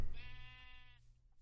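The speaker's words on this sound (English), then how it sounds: "And you're a sheep, not a cow." Minecraft sheep giving a single short, nasal bleat, close and clear, then fading out.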